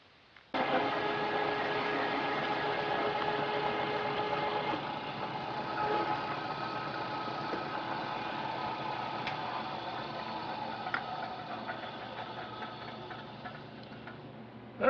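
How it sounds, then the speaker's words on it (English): Three-inch hole saw cutting on a milling machine in a metal shop, a continuous steady grinding drone with faint ticking and rattling textures throughout. "We'll take this to the mill, use a 3-inch hole saw to open up the inside"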